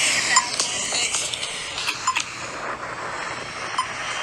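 Australian pedestrian crosswalk button giving its waiting signal, a sharp repeated tick-like beep over steady street background noise, several short clicks spaced irregularly and moderately loud.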